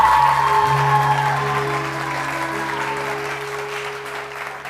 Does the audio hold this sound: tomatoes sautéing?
no